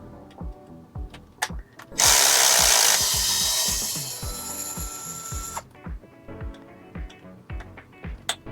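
Power tool backing screws out of an Axial Jeep CJ7 RC crawler, one loud, close burst of high whirring lasting about three seconds, surrounded by repeated small clicks and ratcheting taps.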